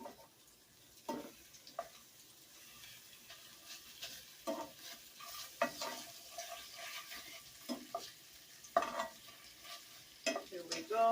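Pork ribs frying in a covered pan over a lowered flame, a steady soft sizzle broken by irregular crackles and pops, moderately close with no talk.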